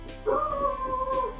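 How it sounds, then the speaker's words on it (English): A household dog gives a drawn-out whining yelp, a single sustained tonal cry lasting about a second, fairly close and clear, with a faint background murmur and no speech. "There goes my dog."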